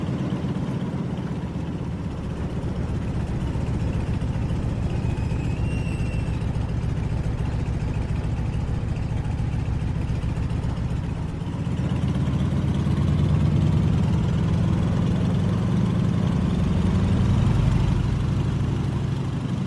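Stearman taildragger biplane with a radial piston engine taxiing over grass and taxiway in Microsoft Flight, a steady low rumbling drone that holds throughout and swells slightly louder near the end.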